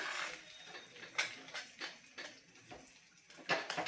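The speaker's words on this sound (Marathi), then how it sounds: "आता सतत ढवळत हा परत एकदा व्यवस्थित शिजवून घ्यायचा आहे" Sweet potato sheera is stirred in a pan, giving soft repeated scraping and clinking strokes of a utensil against the metal, faint and close, spaced irregularly about every half second.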